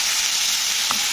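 Ginger garlic paste frying with onions for a fish head and cauliflower curry gives a steady, loud broadband sizzle with no break, a single faint stir or clink near the end, and no voices.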